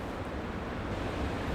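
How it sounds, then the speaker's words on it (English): Heavy rain and gale-force wind outdoors during a storm make a dense, steady roar of rushing noise with no pauses, close and unbroken throughout. "it's heavy rains, it's gale force wind"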